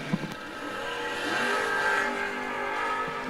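A 1969 Camaro and a 1968 Mustang at a drag strip, engines roaring steadily at close range, swelling slightly in the middle with a brief sharp blip at the start.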